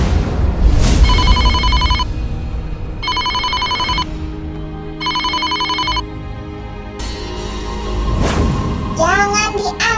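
Telephone ringback tone on an outgoing call to a food seller's number, three bursts of electronic ringing separated by pauses, fairly loud over steady room noise, with a short child-like voice sound near the end.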